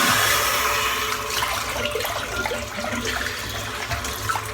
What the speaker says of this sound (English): I'm just going to empty this water because it's cooled down too much